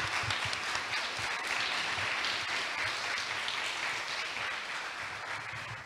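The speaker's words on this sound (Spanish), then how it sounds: "fuerte aplauso a los expositores" Strong applause from a symposium audience greeting the speakers and moderator at a cultural conference, a steady wash of clapping that holds fairly even for several seconds with a low hum running beneath.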